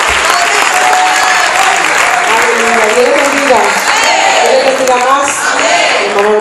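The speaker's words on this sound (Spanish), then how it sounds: "La cual recibimos con un fuerte aplauso." Applause from a church congregation at an evangelistic youth revival service, dense sustained clapping filling the room with scattered cheers and voices underneath, steady and loud throughout.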